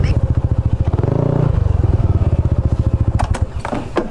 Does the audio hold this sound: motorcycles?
yes